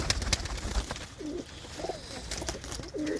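Large pigeons coo in three distinct, rounded warbling calls spaced a second or so apart, close by, over a background of clattering knocks and light rustling.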